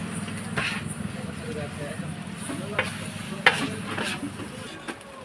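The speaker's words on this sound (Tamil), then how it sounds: "அப்புறம் கட் பண்ண வச்சுருந்த பரோட்டாவை அதில் அப்படியே சேர்த்து மிக்ஸ் பண்ணுறாரு" Chopped parotta is mixed with chicken on a street-cart griddle for kothu parotta, with a steady sizzle and occasional metal scrapes and clanks, and voices murmuring in the background.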